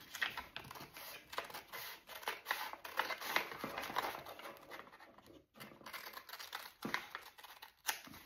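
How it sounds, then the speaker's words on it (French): Scissors snipping through fabric along a marked line for shorts sewing, a quiet close run of repeated crisp cuts with short gaps, no talk. "je vais carrément découper sur la ligne"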